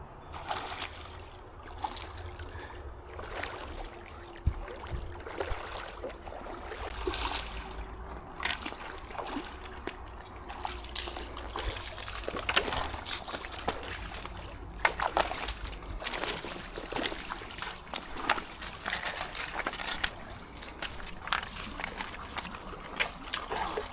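Water trickles and sloshes steadily in a small creek near an old railroad bridge, with scattered splashes and knocks over a continuous watery bed.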